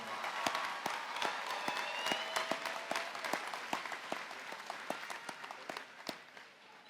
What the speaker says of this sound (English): Let's give a big round of applause for our 28 valedictorians for the class of 2024.